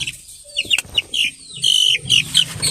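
Young chicks and pullets of a pure old-line breed cheep and cluck at close range in short, bright bursts, with a rustle of movement and a brief flutter of wings, no one speaking.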